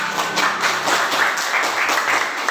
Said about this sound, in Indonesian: Oke, tepuk tangan untuk Mas Gilang.